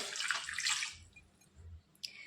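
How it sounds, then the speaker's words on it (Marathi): About a glass of water pours steadily into a pan of raw mangoes for about a second, then quiets to faint low rumbles and a brief clink near the end. "साधारण ग्लासभर पाणी मी इथं घातलंय"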